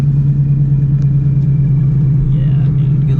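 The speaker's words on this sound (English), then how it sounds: "Bro about to park his car between 2 trucks." A Ford Mustang engine idles and rumbles steadily at close range while the car is eased into a parking spot between two trucks, a loud constant low drone with no talking.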